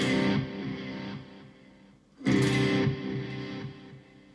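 Electric guitar played through an amplifier with a long delay effect: sustained chords ring out and fade, then a fresh strum hits loudly and trails off into lingering echoes, with no talking.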